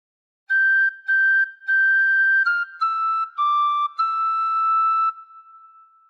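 A tin whistle plays a phrase of Hark the Herald Angels Sing: about seven crisp separated notes, the first three repeated on one pitch, then a stepwise line ending on a longer held note, solo and near.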